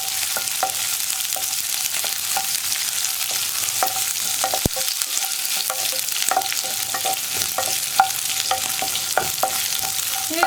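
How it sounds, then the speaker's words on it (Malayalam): Green chilies sizzle and fry in a pan for a chickpea kadala curry, with a steady hiss broken by repeated clinks and scrapes of a spoon stirring, close and moderately loud, with no talking. "ഇതൊന്ന് കുക്കായി വരുന്നത് വരെ 1 മിനിറ്റ് ഒന്ന് ഇളക്കി കൊടുക്കുക"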